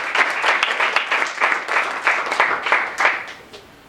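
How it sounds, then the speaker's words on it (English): An audience applauding, a dense wash of many hands clapping steadily at a moderate distance, then fading slightly near the end. "let's have a round of applause for Hector as he passes it over"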